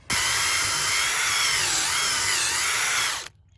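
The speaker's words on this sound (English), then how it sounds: "you can see I got it drilled in there" A power drill bores a hole for a pasture gate installation, starting abruptly and running as a loud, steady high whine for about three seconds before it cuts off, close to the listener and with no talking.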